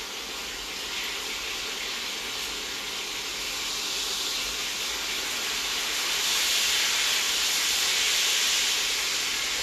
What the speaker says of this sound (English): back here we have the chicken thighs that are frying up